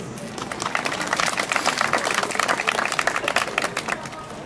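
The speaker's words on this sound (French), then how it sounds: "Et on peut l'applaudir." An audience applauds a Miss Alsace 2013 candidate, dense clapping that starts quickly, stays loud and steady for several seconds, then thins out toward the end.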